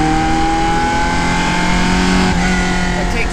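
Classic Ferrari engine pulling hard at high revs from inside the car, a loud sustained tonal whine that holds steady, with a brief shift-like dip near the end and speech mixed in underneath.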